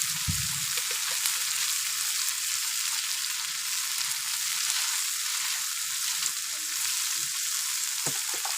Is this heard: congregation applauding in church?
no